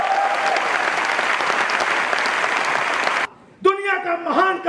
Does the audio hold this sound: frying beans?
no